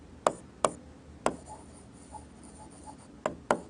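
Chalk tapping and scraping on a board as an English-medium Class 12 maths teacher writes an equation, with six sharp separate clicks spaced irregularly and faint scratching strokes between them, close and fairly quiet.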